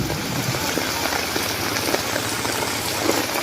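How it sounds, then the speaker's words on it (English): Heavy rainy-season rain in the Philippines pours in a dense, constant hiss and patter on surfaces, loud and close with no letup. "Rain, go away."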